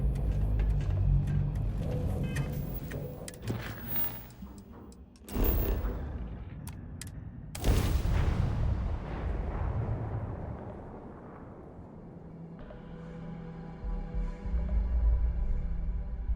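Grenade blasts and gunfire roar through a Starfield firefight, with loud repeated booms and sharp cracks over rumbling debris and a sustained low din, later easing to a steadier hum.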